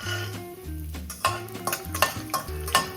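Peanuts frying in hot oil in a kadai, a steady sizzle broken by the scrape and clatter of stirring, with background music playing throughout.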